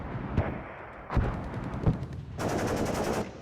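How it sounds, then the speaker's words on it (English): Heavy machine gun fire in the video game WARNO: three separate heavy shots, then a sustained rapid burst of automatic fire near the end, loud and close. "Yep, it's a heavy machine gun"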